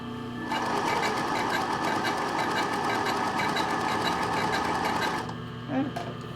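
A sewing machine sews a straight stitch on lace trim, giving a fast, steady mechanical chatter for about five seconds that then stops. Brief soft handling noises follow.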